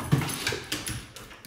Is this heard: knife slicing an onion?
no